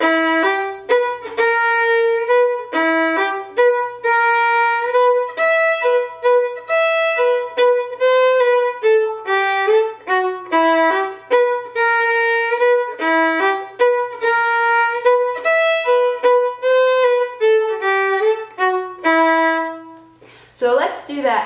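A lone fiddle plays the A part of a folk tune, a brisk, lilting run of bowed notes, close-miked and steady, ending with a short held note and a brief voice.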